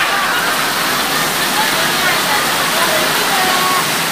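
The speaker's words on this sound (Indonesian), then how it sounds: "ini hujan lebat sekali nih" Heavy rain pours steadily onto toy vehicles such as a tanker truck, a dump truck, an excavator, a bus and a crane, making a dense, continuous wash of water that runs unbroken throughout.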